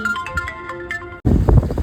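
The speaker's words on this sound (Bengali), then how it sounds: "ফোন এসছে" A phone ringtone plays as a tonal, repeating melody of short bright notes for about a second, then cuts off and gives way to louder, busier household noise.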